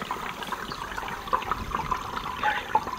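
Water trickles and splashes steadily into a water-saving tank, with small gurgling drips and no voices.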